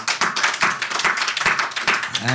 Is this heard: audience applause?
yes